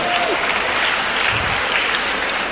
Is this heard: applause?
yes